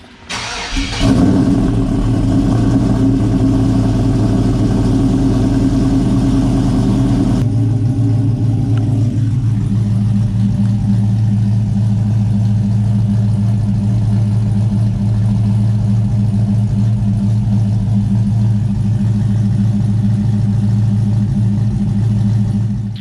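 A Chevrolet Tahoe with an LSA supercharged engine and a new exhaust cranks and fires up, then settles into a loud, steady, deep rumbling idle that runs on alone and close by.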